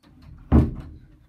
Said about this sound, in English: I need to close my door so my brother can't hear me.